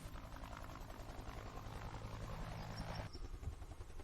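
Helicopter in the video game Chained Together, a steady rotor and engine drone that holds for a few seconds before cutting off, close and continuous with no talking.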